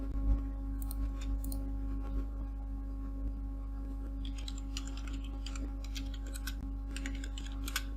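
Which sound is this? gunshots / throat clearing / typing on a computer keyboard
typing on a computer keyboard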